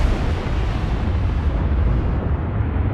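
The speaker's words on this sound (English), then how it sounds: "We are already firing with our front guns." Battleship front guns firing in the Ultimate Admiral Dreadnoughts naval game, a loud continuous rumbling roar of heavy cannon blasts that fills the whole stretch and dulls slightly toward the end.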